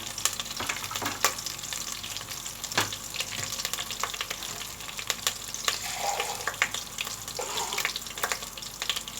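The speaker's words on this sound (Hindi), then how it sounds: "ये हम थोड़ा सा पानी डाल रहे हैं।" Steady sizzling and frying as a little water is poured into a pan of fried ginger-garlic paste, with light watery splashes and clinks, continuous and fairly close.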